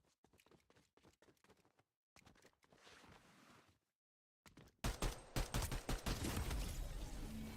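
Video game gunfire in a multiplayer playtest session, with rapid bursts of automatic shots broken by brief pauses, then a louder, denser stretch of sustained fire near the end.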